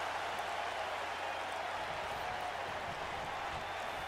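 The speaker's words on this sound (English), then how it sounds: "the boos that Roman Reigns is receiving is probably because of the love for The Undertaker" Dense, constant crowd roar in the WWE 2K19 wrestling video game during a Raw match involving Roman Reigns, a broad wash of arena noise that stays level throughout.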